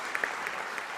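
A faint, brief patch of applause from the audience at a closing plenary of a landscapes forum in Nairobi, a soft continuous patter with a few sharper claps standing out.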